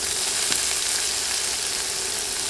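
Three medium onions, sliced and added to spices in oil for an okra dish, fry with a steady close sizzle. A faint stirring knock sounds once, and no one talks.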